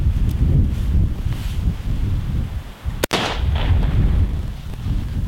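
A single sharp, loud rifle shot cracks out at 10 meters on a range, standing alone amid steady wind noise against the microphone.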